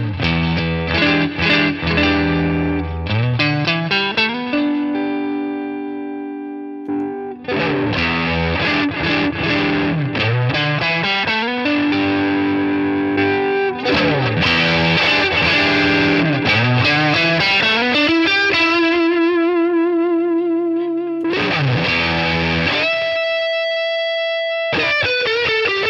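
A distorted electric guitar plays riffs and sustained notes through a BOSS Katana Gen 3 amp's channel presets, including a boosted brown channel, with chorus, delay and reverb effects and short pauses between passages.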